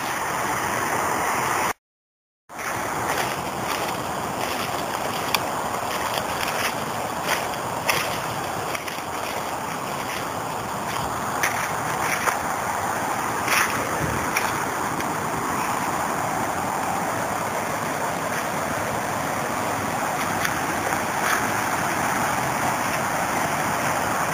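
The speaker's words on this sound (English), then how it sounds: "This is another one of those waterfalls created by what is called a page pond." Waterfall below a pond on the Los Gatos trail, heard as a steady, broad rushing wash of falling water that holds an even level throughout, apart from a brief gap of silence early on.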